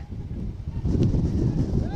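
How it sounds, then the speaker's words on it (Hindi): Strong wind gusts along the coast at Dwarka roar steadily into the microphone, a continuous low buffeting rumble that builds toward the end, loud and close with no clear talk over it. "अभी भी देखिए बहुत तेज हवाएं चल रही हैं"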